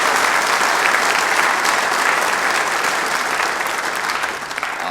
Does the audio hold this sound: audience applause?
yes